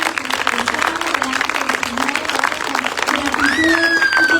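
A crowd claps steadily in a dense wash of applause, with voices mixed in and a rising tone toward the end.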